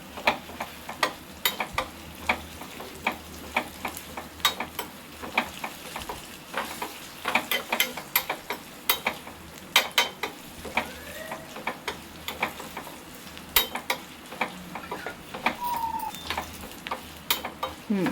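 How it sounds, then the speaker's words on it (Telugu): Tempering spices sizzle and crackle while frying in oil in a pot, a steady hiss dotted with sharp pops and spits throughout, close and fairly loud. "తాలింపు వేగిందా? కొంచెం వేగాలి."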